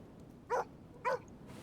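A dog barks twice in a short, evenly spaced pair in The Pale Mimic video game, clear and moderately close over a quiet low background hum.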